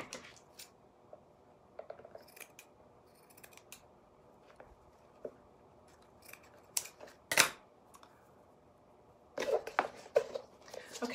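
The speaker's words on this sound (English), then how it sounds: "let me just cut a piece to show you" Scissors snip through a piece of lace in a few quiet, crisp cuts, with some light rustling and handling between them, close and faint, clustered more densely toward the end.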